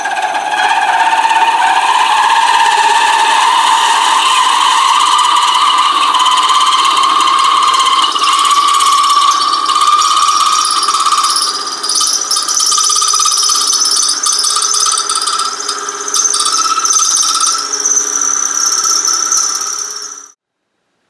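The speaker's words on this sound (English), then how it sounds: "And now I'm going to turn my lathe back on." An aluminum pen blank spins on a wood lathe while the tool makes contact, giving a loud, continuous high-pitched squealing whine with ringing overtones that holds steady for about twenty seconds, then cuts off abruptly.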